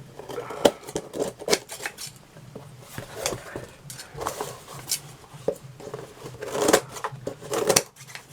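Craft material for a mixed media stone wall caddy trimmed with scissors, giving a run of short crisp snips and rustles at close range, uneven in rhythm, with no talk.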